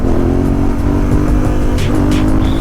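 A loud, close Yamaha Ténéré 700 motorcycle engine roars and revs steadily for a wheelie, with no one speaking.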